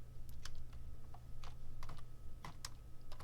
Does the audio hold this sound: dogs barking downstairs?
no